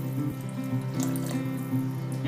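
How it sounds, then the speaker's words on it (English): Running water pours steadily from a tap into a pan of papad curry, a close, continuous gushing splash with no talk over it. "To this, add a glass or glass and half of water"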